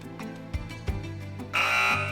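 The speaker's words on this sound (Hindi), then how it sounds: "चले तो मैं बज़र्स एनेबल कर रहा हूँ।" A quiz show buzzer rings out sharply near the end, preceded by a few soft knocks and thuds, with no voices.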